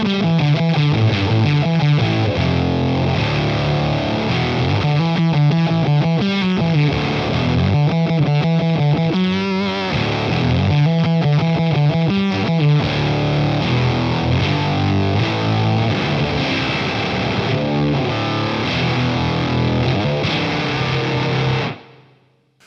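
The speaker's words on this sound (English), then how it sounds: "It's a real vintage 60s and 70s fuzz sound." Electric guitar through a vintage 1960s–70s octave fuzz pedal, a thick, buzzy distorted tone with an octave-up edge, played as continuous riffs and chords for about twenty seconds before cutting off abruptly.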